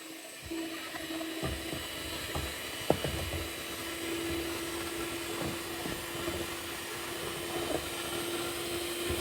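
An electric five-speed hand mixer whips egg whites for a baked cottage-cheese casserole, giving a steady whirring motor hum throughout, with a few clicks and bumps of the beaters against the bowl.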